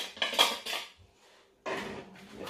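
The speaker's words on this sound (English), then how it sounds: "The final whisk." Dry cake ingredients for a coconut cake are whisked in a bowl in two brisk bursts of rapid scratchy rattling, separated by a short pause.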